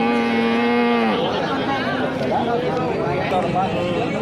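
A Punganur cow moos at a busy cattle market, one long low drawn-out call with a falling pitch, while people talk and chatter close by in the background.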